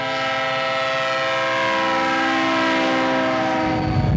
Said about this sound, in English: It's one of the Wisconsin Central's daily freight runs between Superior and Stevens Point, Wisconsin.